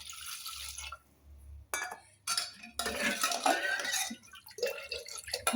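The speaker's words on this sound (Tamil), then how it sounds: "நம்ம இதில் கொஞ்சம் வேணுன்ற அளவு தண்ணி ஊற்றுறோம்" Water is poured into a bowl of thick buttermilk for curd vada, heard as close splashing and pouring in bursts with clinks of a vessel, with no talk.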